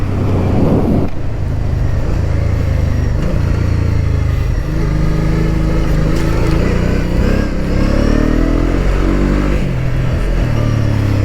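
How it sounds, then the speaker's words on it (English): A Honda Transalp 650 motorcycle on Mitas E-07+ tires rides off-road, its engine droning loud and close with rising and falling revs throughout. "back on the off-road with the Transalp, doing a quick review."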